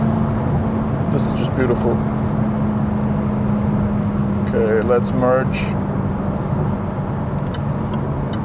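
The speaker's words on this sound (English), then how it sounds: "here you can hear some of the engine sound" A Jaguar F-Type drones at high speed on the Autobahn, a steady loud cabin hum with road and engine rumble throughout, while someone talks over it.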